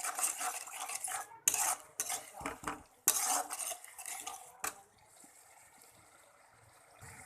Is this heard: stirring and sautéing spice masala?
yes